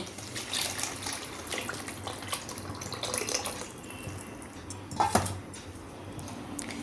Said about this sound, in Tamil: இந்த சமயம் புளி தண்ணியை ஊற்றிடுவோமே.